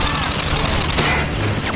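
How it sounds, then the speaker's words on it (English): Grenade blast in the video game Call of Duty Modern Warfare 2: a loud, dense burst of explosive noise with gunfire-like crackle throughout a brief moment. "Uh oh, we threw a grenade."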